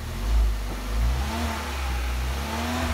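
A Kia Rio engine, 2011–2017 model, revs up twice in short swells over a steady running drone, loud and close to the exhaust.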